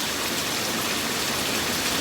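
Heavy rain pours down steadily outdoors near a mangrove village pier, a loud, even, unbroken hiss of falling water with no voices.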